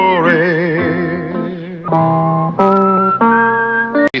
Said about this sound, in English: Whistle a tune that'll carry me